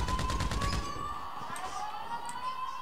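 Gunfire in GTA 5 Online during the Doomsday Heist data-leak mission: a rapid burst of loud shots in the first second, then a steady electronic tone with scattered faint game noises.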